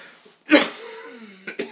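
A person coughs once sharply, followed by a short raspy breath and a couple of smaller throat-clearing coughs, close and alone.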